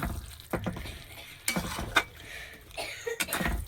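Spice paste stir-fried in oil in a pan for a chicken curry, with soft sizzling under repeated scraping and stirring strokes of a spoon against the pan, close and moderately loud.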